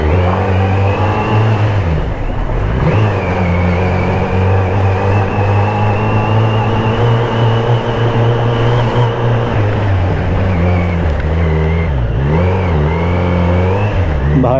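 A Kawasaki Z900 motorcycle with a gear that sticks, an engine that keeps stalling and RPM that drop low. It revs loudly and close up, with steady engine drone and repeated rises and falls in pitch as the throttle opens and closes.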